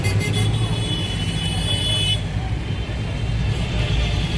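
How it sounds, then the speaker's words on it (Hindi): Steady roar of road traffic waiting at a signal near a hospital, with engines idling and brief car horn toots mixed into the continuous noise. "ट्रैफिक लगा हुआ है अभी"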